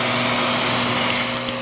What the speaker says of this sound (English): I'm getting a crazy workout from just vacuuming